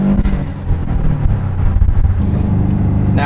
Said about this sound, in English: so you can hear what the downpipe sounds like inside the car